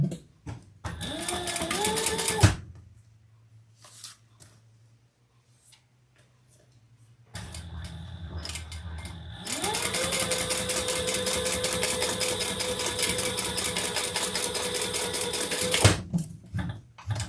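Sewing machine top stitching a small fabric pouch, with a short whirring burst, a quiet pause with faint hum, then a long steady run of close, even stitching and no talking.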